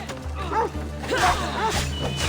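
A dog barks in Assassin's Creed Odyssey, a few sharp yelping barks close by, mixed with a low steady game hum and other combat sounds.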